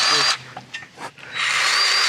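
A Hercules electric grease gun whirs loudly as it pumps grease into equipment fittings, a sustained motor drone that stops, leaves a few small clicks, then starts again.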